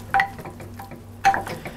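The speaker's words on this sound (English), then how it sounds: "I'm just going to cook this flour for about a minute" Flour cooking in melted butter over low heat for a roux, with two short scraping stirs against the pan over a faint, quiet sizzle.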